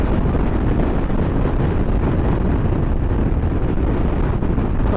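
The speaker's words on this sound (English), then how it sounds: "Oh God, it's windy." Strong wind on the Scottish north coast roars steadily into a microphone during a motorbike trip, a loud, dense, buffeting rumble that fills the whole stretch without a break.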